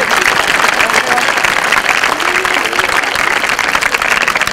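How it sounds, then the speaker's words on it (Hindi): A school audience applauds loudly and steadily, dense clapping filling the space throughout while a voice carries faintly underneath. "इसके लिए भी तालियां बजाओ"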